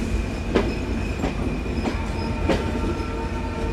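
A passenger train pulls out of Daulatpur railway station, heard from on board as a loud, continuous rumble with regular clickety-clack wheel beats on the rail joints roughly every half to one second.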